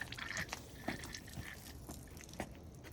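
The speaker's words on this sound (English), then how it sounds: "I'm just gonna let it hang so that it can drip dry." Water drips and trickles from a shower head left hanging after a rinse, faint scattered plinks and small splashes at an uneven rhythm over a quiet background.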